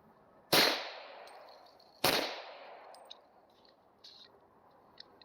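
Two sharp gunshots from a Taurus TH40 pistol at an outdoor range, about one and a half seconds apart, each loud and close with a short decaying echo, followed by faint clicks.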